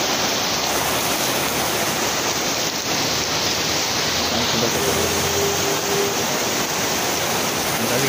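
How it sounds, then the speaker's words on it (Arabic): Heavy rain on a December day, a dense and steady broadband roar like rushing water that stays loud and close throughout with no voices. "النهارده اول يوم زي ما انتم شايفين في مطر كده، مطر شديد"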